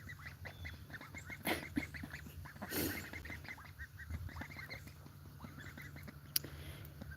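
A duck quacks and honks in short, uneven bursts over soft outdoor background noise on a quiet morning, fairly faint with one louder call in the middle.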